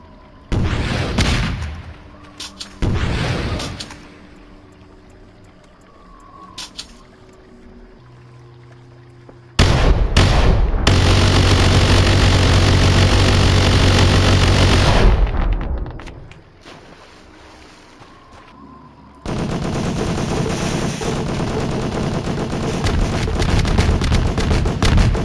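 Gunfire in the horror game Voices of the Void comes as a few sharp single shots early on. Two long, loud stretches of continuous, dense firing follow, set apart by quieter gaps with faint clicks.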